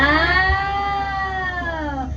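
A large zoo cat that climbs trees well and can weigh up to 200 kg gives a single drawn-out, whining, cat-like cry lasting about two seconds, close and fairly loud, with low rumbling background noise.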